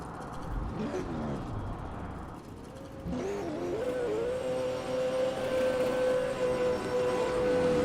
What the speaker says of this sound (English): Enjoying some burnouts.